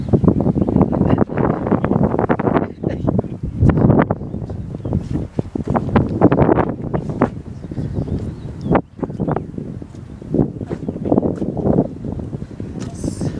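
Strong wind buffets a boat out on a bay on a hot, sunny day, loud irregular gusts rumbling against the microphone, mixed with voices talking.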